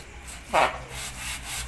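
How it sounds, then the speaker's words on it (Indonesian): A scooter radiator part is rubbed flat with sandpaper on a ceramic tile, giving one short loud scraping stroke followed by quieter, steadier rasping, close up and without speech. "Ini kita akan amplas terus menerus sampai ketemu kondisi halusnya."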